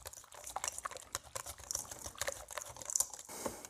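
Flour, water and oil flatbread batter stirred in a bowl, a fast run of soft wet clicking and sloshing strokes heard up close, with no voices.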